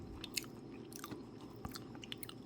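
Close, crisp chewing of crispy fried hairtail fish with irregular crunchy bites, quiet and intimate with no talking.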